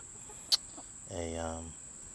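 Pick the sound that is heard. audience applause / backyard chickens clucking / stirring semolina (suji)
backyard chickens clucking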